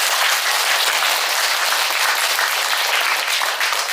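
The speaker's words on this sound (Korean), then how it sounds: "우리 긴장을 좀 풀기 위해서 박수 한번 치시죠." A Buddhist temple audience at a Buddha's Birthday sermon breaks into a full round of applause. Dense, loud clapping fills the hall evenly from start to finish.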